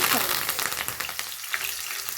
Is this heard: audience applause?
no